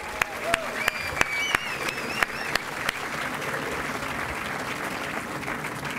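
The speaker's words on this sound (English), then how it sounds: "I want to give Bill a great round of applause" Crowd at a new stadium groundbreaking ceremony applauds steadily, a broad continuous clatter of many hands with a few sharper claps standing out early, lasting the whole stretch without talk.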